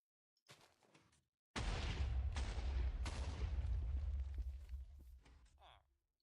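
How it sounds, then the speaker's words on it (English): Explosions in the Minecraft GT New Horizons modpack: a brief early pop, then a loud, sustained rumbling blast lasting several seconds with a few sharper bursts inside it, fading out at the end. "Oh, that's gonna be a lot of explosions here."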